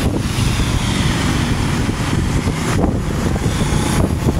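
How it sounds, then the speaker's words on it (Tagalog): Strong wind gusts at BGC in the city, a loud continuous roar buffeting the microphone with rough surges and no pauses, no voices heard. "Sobrang lakas ng hangin po talaga"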